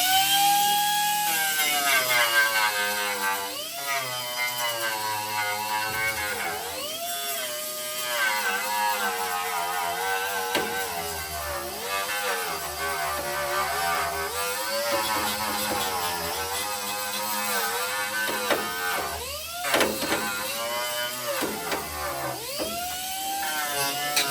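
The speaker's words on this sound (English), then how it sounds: "got the die grinder hooked up to it, and I'm going to give this a try and see how it works" An air die grinder driven by a compressor screams at high speed, its pitch wavering and dipping as it loads up on the work, with short stops and restarts across a long, continuous run.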